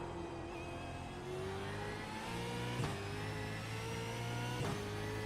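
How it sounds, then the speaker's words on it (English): A V8 Supercar racing game engine drones steadily, rising in pitch, then gives two quick sharp throttle blips on downshifts, close and clear with no talk. "I'm going to blip when I go down there, otherwise we're just going to spin the wheels"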